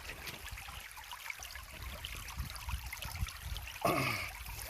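A rainforest river runs in a steady, soft babble while wild cucumber is washed in it. Near the end comes one brief, louder splash of water.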